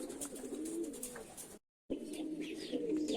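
Pigeons coo softly in a loft during hot weather, with low, throaty calls overlapping close by and a short silent break partway through.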